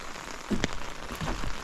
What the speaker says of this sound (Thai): ฝนตกที่นี่เป็นยังไงบ้างนะครับ